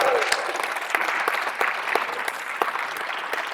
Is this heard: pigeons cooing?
no